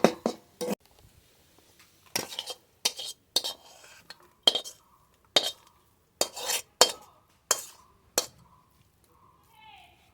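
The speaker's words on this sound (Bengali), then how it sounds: "নেড়ে নেড়ে ভালো করে এবার ভেজে নেব" A spatula scrapes and clinks against a pan as stem amaranth greens (data shak) are stirred and fried: about a dozen sharp, close strokes separated by short pauses.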